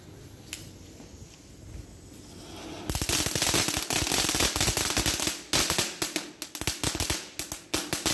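A rapid string of sharp firecracker pops from Aldi fireworks crackles close by, starting suddenly after a quiet stretch and continuing in irregular bursts.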